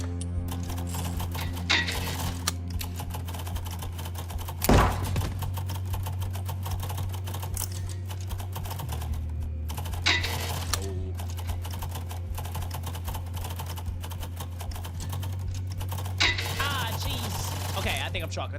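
Rapid keyboard typing clatters continuously during a typing game, dense irregular key clicks with a few louder clacks, over a steady low electronic hum.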